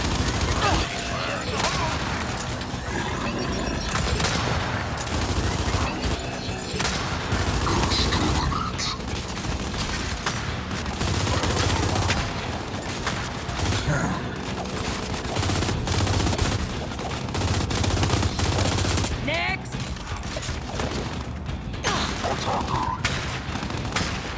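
Sustained gunfire from the shooter Gears 5: Hivebusters, rapid automatic bursts and heavier booms layered densely and loud throughout, with a voice talking underneath at times.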